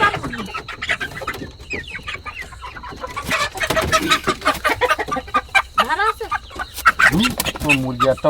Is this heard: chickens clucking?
yes